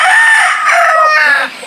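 A backyard rooster crows loudly and close by, one long continuous call that fades at the end, with no voices.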